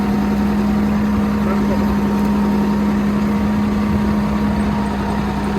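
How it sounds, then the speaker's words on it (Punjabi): A Swaraj 969 4WD tractor engine runs steadily under load at about 1300 rpm in fourth gear, a constant low droning hum with a strong even tone and no change in pace. "1300 ਚੱਕਰ ਦੇ ਟਰੈਕਟਰ ਚੱਲ ਰਿਹਾ ਸਾਰਾ"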